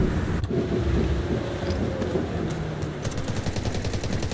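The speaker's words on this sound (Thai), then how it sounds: "มีเสียงปืนตามหลังมาอีกแล้ว" Bursts of rapid gunfire from the video game Delta Force, sharp repeated shots cracking over a rumbling background, with a quick volley near the end.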